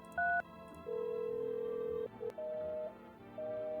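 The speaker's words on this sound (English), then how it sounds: "What if I phone them right now? We're phoning them up." A phone call to an invalid number: a short beep, then a series of steady electronic tones of differing pitch with brief gaps, like a special-information intercept signal, faint and alone.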